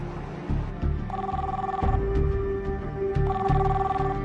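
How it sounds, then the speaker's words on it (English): A telephone rings in repeated bursts while a call to a cell phone goes unanswered, with the electronic ring tones sounding in a steady pattern over a low background hum. "Tom keeps trying her cell phone."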